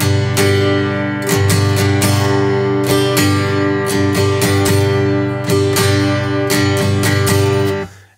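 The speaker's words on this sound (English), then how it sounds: "One thing you might notice when you're practicing this is your strumming might sound like this." A beginner strums an acoustic guitar with an uneven, choppy rhythm, the chords ringing loud and close, with irregular strokes and no voices.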